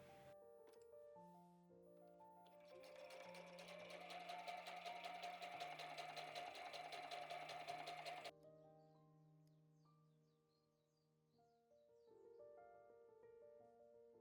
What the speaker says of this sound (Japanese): まずはこれミシンでステッチしますね。